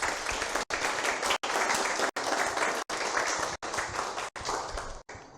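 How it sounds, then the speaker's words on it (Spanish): Audience applause welcomes a presenter at a tax seminar, a dense continuous clapping broken by several brief dropouts, fairly even in loudness throughout. "a quien recibimos con un fuerte aplauso"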